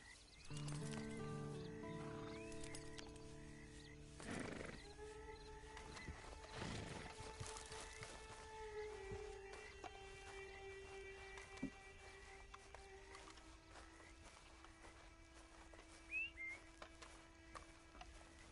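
A video game horse whinnies near the start, followed by scattered hoof clops and faint rustling movement, fairly quiet and distant in tone.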